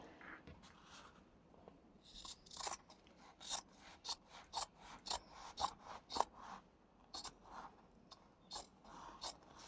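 Scissors snip through fabric scraps and paper for a junk journal cover, a close, quiet series of sharp crisp cuts in an irregular rhythm with soft rubbing between them.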